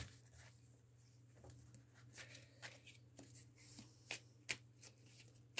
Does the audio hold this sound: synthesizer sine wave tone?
no